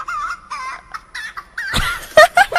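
A buzzer sound effect called Chicken Song: clucking and squawking chicken noises, a run of short warbling clucks followed by louder, harsher squawks, close and alone.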